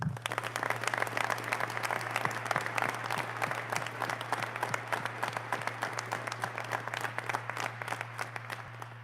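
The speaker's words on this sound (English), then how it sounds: "If we could have a round of applause for..." Audience applause at a fire department recruit graduation, steady dense clapping from a crowd throughout, with a constant low hum beneath it.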